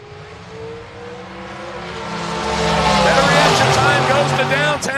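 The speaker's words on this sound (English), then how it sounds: "That brings up our next pair of Dragsters." Dragster race cars at a drag strip during a Halloween bracket-racing weekend, loud engine roar building and surging through the clip as the cars rev and launch, with a race announcer's voice running throughout.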